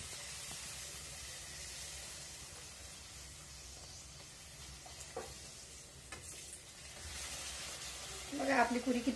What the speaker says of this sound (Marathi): आता आपण इथं तेल तापत ठेवलेलं आहे। आता आपण त्याच्यामध्ये पुरी टाकूया।